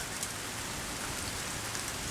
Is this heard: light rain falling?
yes